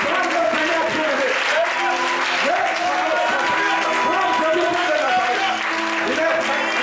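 A church congregation applauds steadily and loudly throughout, a sustained wash of clapping mixed with crowd voices and singing or talk during a French-language worship service.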